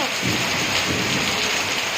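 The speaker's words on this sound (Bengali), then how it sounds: "বিশাল বৃষ্টি হচ্ছে আর বিশাল মেঘ ডাকছে" Heavy rain pours down in a dense, steady roar with low thunder rumbling underneath, close and loud throughout.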